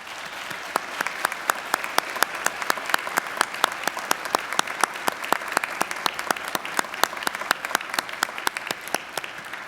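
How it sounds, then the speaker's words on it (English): Graduates at a Macquarie University graduation ceremony give a hearty round of applause, dense steady clapping from a large crowd filling the hall and sustained throughout without talk. "give them a hearty round of applause"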